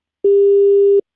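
A single steady telephone disconnect tone on a dropped phone call, lasting just under a second, loud and clean with no talk over it.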